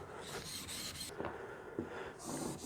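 A blade is stroked across a 4000 grit sharpening stone, giving quiet, close, rasping rubs in a repeated back-and-forth rhythm.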